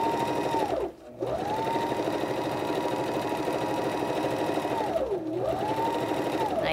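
A sewing machine stitching fabric runs in a continuous rapid whirring hum at close range, briefly dipping twice as the machine slows, with a voice talking over it.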